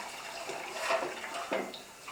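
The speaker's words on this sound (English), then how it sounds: "I'll put some water in there." Water is poured into a cooking pot in a home kitchen in short splashy bursts, two louder gushes over a soft background, with no talking.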